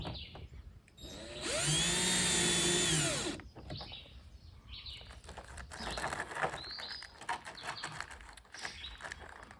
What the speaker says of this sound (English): If you're going to use a power tool like I'm using here to put these pan head screws in